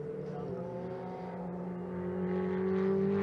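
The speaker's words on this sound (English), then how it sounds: "So cars on their cool-down lap then before heading into the Parc Fermé area" Ferrari 488 Challenge race cars on a cool-down lap at the Nürburgring, a steady engine drone with tonal harmonics that rises slightly in loudness toward the end.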